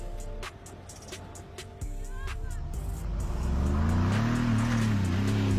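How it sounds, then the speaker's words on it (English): A Mercedes G63 with all locking differentials engaged climbs a snowy hill at full throttle, the engine rising from a low idle into a loud, wavering rev as the wheels spin and slip, with faint voices in the background. "The G63 slips with all four wheels and slides aside."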